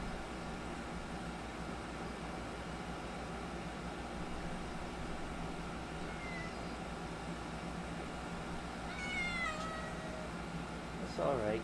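A cat near a box gives a few faint meows, mostly in the later seconds, over a steady hum of room noise; the cries are soft and somewhat distant, with no talking during the sounds.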